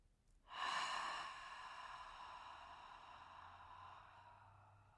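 A single close, drawn-out breath swells in suddenly and then trails off slowly during a relaxation exercise, steady and soft in a quiet room.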